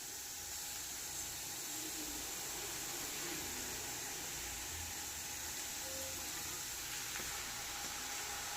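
Marinated chicken hits butter and sautéed onions in a hot pan, giving a continuous close sizzle and crackle of frying that stays steady from start to finish, with no talking.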